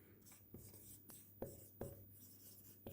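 Chalk or marker tapping and scraping on a classroom board during a Class 9 science lecture, a few distinct sharp strokes spaced irregularly over a low steady background hum.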